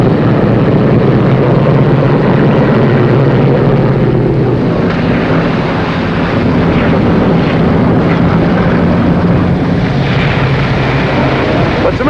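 A propeller aircraft taxis onto a runway in a 1950 drama, its engine roar loud, dense and continuous throughout.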